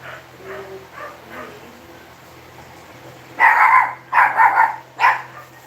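A dog gives a few loud, close barks in a burst near the end, after quiet background murmuring, in a room during a live chat.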